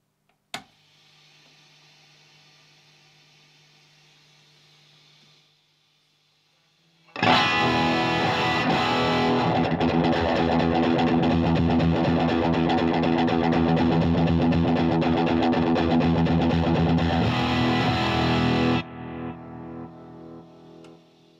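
A heavily distorted electric guitar roars loud and sustained through an overdriven Marshall Studio Vintage 20 (SV20H) tube amp after a quieter, cleaner opening, then cuts off and rings out.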